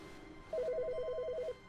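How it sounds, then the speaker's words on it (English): Telephone in The Stanley Parable Ultra Deluxe ringing once, a single bright electronic trill of rapid pulses lasting about a second over a quiet room hum. "Why is the phone ringing?"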